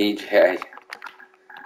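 Computer keyboard keys typed in short irregular clicks while entering letters for designing a golf course in PGA Tour 2K23, following a brief burst of speech.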